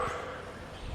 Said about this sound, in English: Excuse the dogs across the street barking.